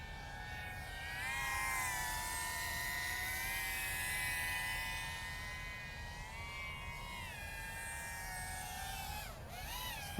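A GEPRC Cinelog35 V3 FPV drone flies with a continuous high buzzing propeller whine that rises and falls in pitch as the throttle changes, steady and moderately distant.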